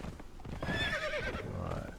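A horse in the Conan Exiles video game whinnies with a rising, wavering call over steady hoofbeats, close and fairly loud, with no talking over it.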